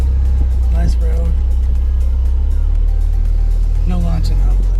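A 2020 Porsche 911 Carrera 4S Cabriolet engine hums steadily at road speed with wind rush, top down, while people talk over it in the foreground.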